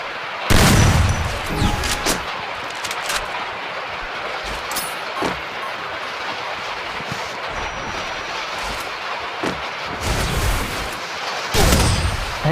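Gunfire in the Free Fire battle game: several loud, sharp shots and short bursts spread across the stretch, with a steady noisy game background between them and no talking.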